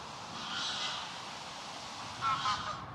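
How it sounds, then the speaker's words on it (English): Two bursts of goose honking, one near the start and a louder one near the end, over steady outdoor background noise. "saying hello to these geese."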